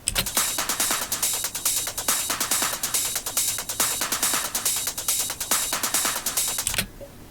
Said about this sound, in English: Now altogether, all the percussion sounds like this.